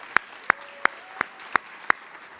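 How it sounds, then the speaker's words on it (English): At a Panther awards ceremony, a handful of separate, evenly spaced handclaps ring out, sparse and close, more like a single person clapping than a full crowd. "so a round of applause"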